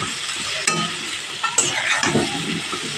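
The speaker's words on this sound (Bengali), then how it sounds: "এইভাবে গ্যাসের ফ্লেমটাকে একটু মিডিয়ামে রেখে আলুটা ভেজে নিতে হবে।" Potatoes seasoned with salt and turmeric fry in a pan over a medium gas flame for a cauliflower kalia, a steady close sizzle broken by a few sharp stirring scrapes.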